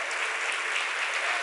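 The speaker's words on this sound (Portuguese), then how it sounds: "Pode aplaudir Jesus." A church congregation applauds for Jesus during a Portuguese-language service, a steady dense wash of clapping that holds evenly through the moment with no voices over it.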